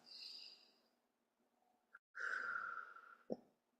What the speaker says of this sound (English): Let's take a few breaths.